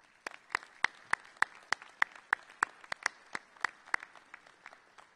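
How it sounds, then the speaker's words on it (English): Audience applause at a fire recruit class graduation ceremony, a moderate, fairly sparse round of individual claps in an indoor hall, rhythmic and steady for about five seconds. "let's give them a round of applause this morning"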